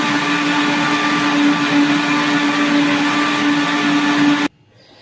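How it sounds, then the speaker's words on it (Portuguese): A blender mixes a soft, runny dough batter for seasoned bread, running loud and steady with a constant motor whine for over four seconds before cutting off abruptly. "eu vou estar tampando o liquidificador, ó, e vou levar para bater por um minutinho, 2 minutinhos"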